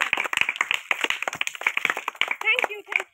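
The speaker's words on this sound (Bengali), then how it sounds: "মিষ্টি দিদি, হাততালি দাও" People clap in a quick, uneven burst for the first winner of a Raksha Bandhan party game, the claps mixed with voices speaking close by.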